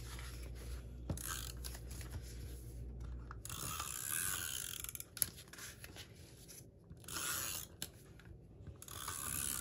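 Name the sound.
tape being applied to paper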